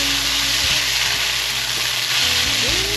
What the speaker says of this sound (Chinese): 现在放入油豆腐，赶快翻炒，大略翻炒一下，放入高丽菜，